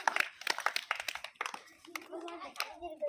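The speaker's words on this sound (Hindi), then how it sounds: "ये जीतती है, ताली बजाओ इसके लिए।" Children in a primary school classroom clap for the winner of the Nadi Aakash (river-sky) game, a brief burst of scattered hand claps near and loud, mixed with a voice and adult talk.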